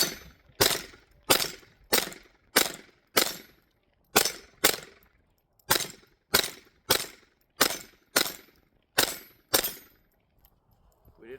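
A Taurus TX22 .22 pistol fires CCI Blazer rounds in rapid strings, roughly fifteen sharp, loud reports in quick clusters with brief pauses between, close to the listener.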